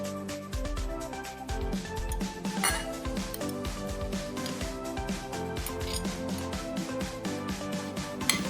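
Small chopped cucumber pieces tumbling onto a plate make a busy run of light clinks and taps against the dish, close and steady over a soft background.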